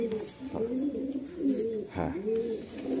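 Golden and kamagar pigeons coo in a close, steady run of soft rounded calls that overlap and swell, a brief louder burst near the middle, with no talk over them.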